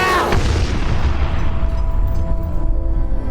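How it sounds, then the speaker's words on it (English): A loud explosion bursts at the start in a room, a deep boom that decays into a long rumbling, resonant tail with lingering tones. "An explosion of green light erupted in the room"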